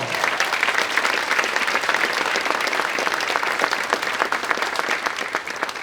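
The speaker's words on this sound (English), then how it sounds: "Let's give all these leaders one more round of applause" A luncheon audience at a leadership awards event gives sustained, dense applause, loud and even from start to finish with no talking on top.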